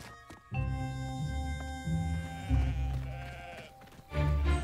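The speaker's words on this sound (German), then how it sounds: "Irgendwas beunruhigt die Schafe." Several sheep bleat in quavering, drawn-out calls from an animated German series, one after another with short gaps, fairly close amid faint background music.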